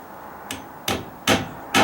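Four sharp hammer blows drive joist hanger nails on a deck joist repair, struck alone at an even pace about half a second apart, each hit louder than the last.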